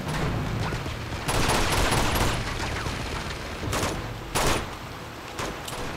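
Dense gunfire in the video game Uncharted 2, rapid overlapping bursts and bangs that continue with little pause, swelling in a couple of louder volleys.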